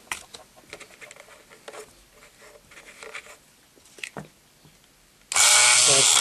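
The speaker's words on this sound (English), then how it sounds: "So this is a Dremel. It just plugs right into your wall." Corded Dremel rotary tool that plugs into the wall, set to speed 5: light tapping and handling noises, then the motor starts with a loud, steady high-pitched whine that runs to the end.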